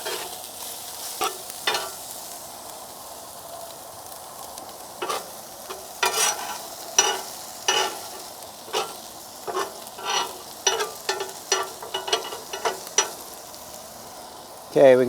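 Chopped meat and onions for a chopped cheese sandwich sizzle on a flat griddle as a spatula repeatedly scrapes and mixes them, sharp irregular clatters over a soft steady fry.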